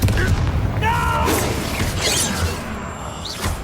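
A booming Confringo fire spell detonates during a Hogwarts Legacy duel, a loud, close blast with rumbling low end and crackling debris, mixed with a character's voice and game sound effects.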